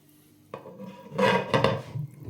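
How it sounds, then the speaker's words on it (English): A spoon stirs red wine beef in a slow cooker pot, making a short burst of scraping and knocking against the pot over about a second, close and fairly loud. "Just give it a quick stir."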